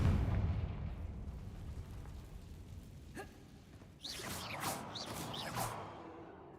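A Confringo explosive spell blast in the video game Hogwarts Legacy: a low rumbling boom fades out, then a sharp crack and a burst of whooshing, fizzling magical effects follow, fairly quiet overall.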